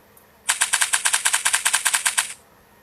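Rapid burst of automatic gunfire, about eighteen sharp shots fired in quick succession over roughly two seconds, loud and close, alone without speech.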